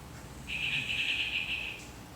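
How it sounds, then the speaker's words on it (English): A single shrill, steady bird call rings out indoors for about a second, clear and fairly close over a quiet room. "Oh, there's birds in here."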